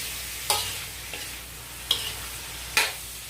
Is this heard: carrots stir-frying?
yes